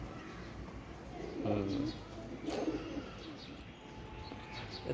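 A high-flyer pigeon on a pigeon farm in Jessore gives two short, soft cooing calls against a low background hum.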